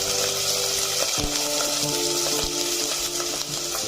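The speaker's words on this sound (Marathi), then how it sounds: "इथे कढईमध्ये मी 1 चमचा तेल टाकलेला आहे। त्यामध्ये मी हा घेवडा टाकला आहे।" Field beans fry in a spoonful of oil in a kadai, giving a steady, loud sizzle throughout with occasional light clinks from stirring.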